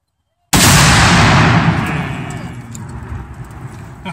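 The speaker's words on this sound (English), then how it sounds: "I'm going to prepare you a loud explosion called Tannerite" A single very loud Tannerite explosion at close range, a sharp blast followed by a long rumbling decay and echo lasting several seconds.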